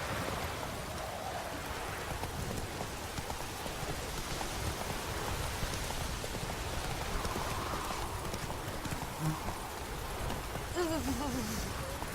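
Rain falls steadily in The Witcher 3: Wild Hunt while a horse's hooves clip-clop rhythmically through it, a continuous wet hiss under the hoofbeats.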